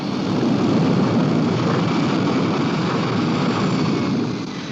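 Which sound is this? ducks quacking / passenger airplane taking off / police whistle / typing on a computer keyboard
passenger airplane taking off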